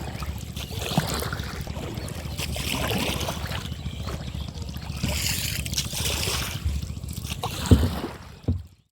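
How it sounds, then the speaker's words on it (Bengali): Kayak paddled on water near Savar, with steady close splashing and sloshing from the strokes throughout and a louder splash near the end. "আমরা কাইকিং করতেছি।"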